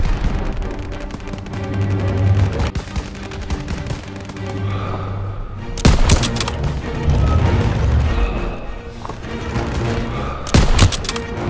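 Rapid bursts of rifle and machine-gun fire in a Call of Duty WWII street battle, loud and dense, with sharp volleys standing out over a continuous rumble of combat and music.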